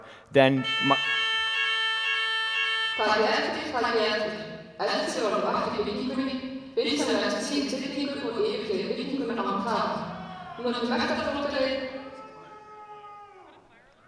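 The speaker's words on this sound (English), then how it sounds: "that was the fire alarm" A fire alarm sounds at a live convention stage presentation, a steady high electronic tone with harmonic bands running from the start, heard under continuous amplified speech from a presenter through most of the stretch.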